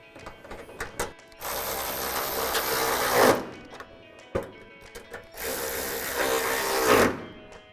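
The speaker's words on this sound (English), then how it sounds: "Then we can grab our ratchet with our extension and 10mm socket and tighten them down." A ratchet with an extension and 10mm socket tightens headlight bolts on a 2005-2009 Mustang, giving two sustained runs of rapid, loud clicking, each lasting about two seconds, with brief knocks between.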